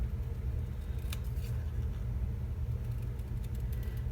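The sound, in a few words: scissors fussy cutting paper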